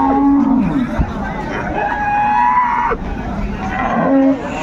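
Dairy cows and calves moo repeatedly at the Ambari cattle market in Dinajpur, with several long, loud lowing calls over a steady background of crowd chatter.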